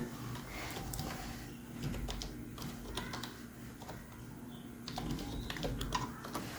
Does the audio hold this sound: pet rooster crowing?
no